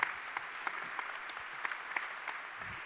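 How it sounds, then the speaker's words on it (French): Applause at a smart city awards session in Paris, a fairly quiet, distant patter of clapping with a few sharper individual claps popping out over the steady sound. "on applaudit Bertrand Serpe"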